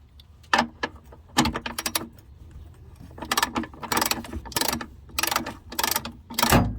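A ratchet on a half-inch drive extension about 10 inches long turns the battery hold-down bolt in a Chevy truck, a close, crisp clicking in quick bursts, pausing and resuming several times and growing busier toward the end.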